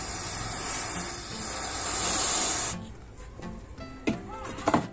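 A continuous hissing blast of freeze spray on a Pioneer VSX-D938TX AV receiver with a no-power fault lasts nearly three seconds, then stops, followed by faint clicks and small handling sounds nearby.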